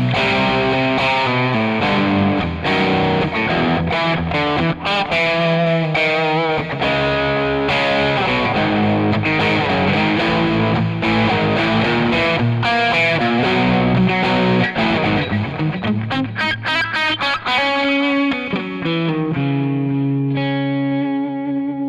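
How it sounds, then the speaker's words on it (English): An electric guitar plays through an overdrive distortion tone on a Zoom G3XN multi-effects processor, gritty chords and riffs running loud and continuous with no talking, ending on a sustained note. "which is an overdrive distortion tone which I used"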